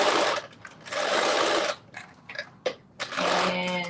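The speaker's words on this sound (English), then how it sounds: "just do this basting stitch around the armholes in the seam allowance" A sewing machine runs a basting stitch around garment armholes in the seam allowance, loud and close, in several whirring bursts separated by short pauses.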